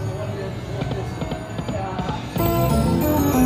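Galloping horse hooves from a casino slot machine game, a rapid clip-clop rhythm over a busy casino background, then jingling machine tones as people talk over it.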